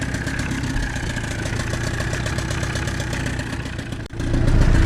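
A pontoon boat's outboard engine runs steadily on a lake after an impeller replacement, a loud continuous mid-pitched drone with a brief dip near the end before it surges louder again.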